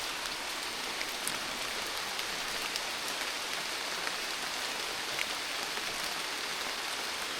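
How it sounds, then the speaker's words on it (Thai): Steady rain falls outdoors in rural Thailand during a search through the countryside, a dense even hiss of drops with no voices. "เดี๋ยวนี้ฝนตกเลย"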